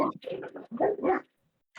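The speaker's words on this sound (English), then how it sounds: "Dogs bark." Dogs bark out in the street in a quick series of short, close barks, then a pause before another bark begins.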